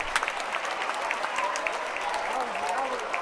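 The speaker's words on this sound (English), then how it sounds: "Getting a hand from the crowd here." Crowd applause at a Wesleyan versus Amherst game as an injured player gets back up, steady clapping from the stands mixed with scattered cheers and a commentator talking over it.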